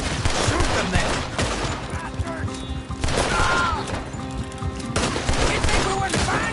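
Rapid, overlapping gunfire bursts in a Red Dead Redemption 2 town shootout, loud and continuous, with sharp volleys layered over a dense crackle of shots and voices mixed in.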